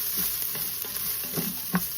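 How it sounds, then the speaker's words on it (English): Dry pasta frying and being stirred in hot oil in a pan for Mexican rice, a steady close sizzle with scraping stir strokes and small clatters throughout, no talking. "And we're gonna fry that pasta as well."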